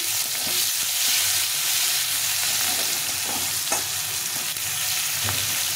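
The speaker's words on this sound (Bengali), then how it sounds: "পেঁয়াজটাকে একটু ভাজা ভাজা করে নেব।" A small chopped onion fries in hot oil for a rohu fish curry, a loud continuous sizzle up close with scraping spatula strokes stirring it and no voices.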